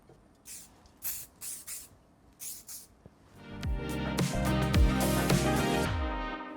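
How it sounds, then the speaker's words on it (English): Several short bursts of aerosol hairspray hiss in quick succession, followed by louder rustling and handling noises close by. "I'm just going to spray a light mist of hairspray over just to set it a little bit."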